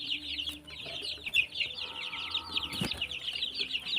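A flock of Rhode Island Red and native chicken crosses on a farm, a continuous run of close, lively clucks with a dull thump and faint background noises mixed in.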